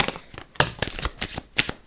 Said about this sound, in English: I will shuffle on camera now